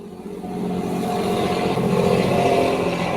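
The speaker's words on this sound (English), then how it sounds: "some American trucks passing by" American trucks passing by nearby, a steady loud low engine rumble that swells and holds as they roll past, with no talk over it.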